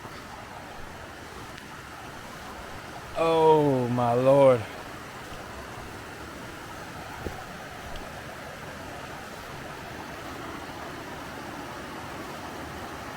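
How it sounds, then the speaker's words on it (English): Creek water at a trail crossing, a steady broadband rush of flowing water heard throughout, with a person briefly exclaiming over it. "the creek crossing."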